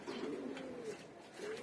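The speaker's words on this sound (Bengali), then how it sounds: "এই যে মেন যেই ঘুঘু পেয়ারটা" Two doves coo close by in a few soft, rounded low phrases, with a short pause before the last call.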